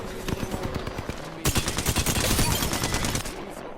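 Rapid automatic gunfire from an Apex Legends match crackles in bursts, first sparse shots then a dense sustained volley of loud, close weapon fire.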